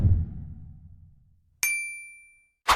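A bright notification bell dings once with a ringing tail that fades over about a second, followed by a second short chime, after a low decaying rumble at the start.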